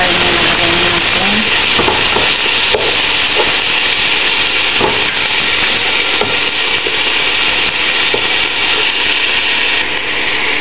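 Ground meat frying in a pan with garlic for Filipino-style spaghetti, a loud, steady sizzle and hiss that stays constant throughout.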